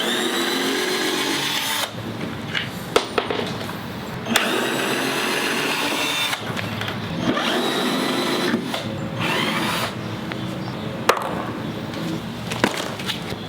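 A power drill backs screws out, close by, with a sustained whine that stops and restarts several times. Short clicks and knocks fall between the runs, and there is no talk.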